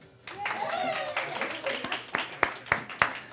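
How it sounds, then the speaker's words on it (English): A church congregation claps along in a rough rhythm, a few sharp claps standing out, while a voice sings over the top. "You can clap."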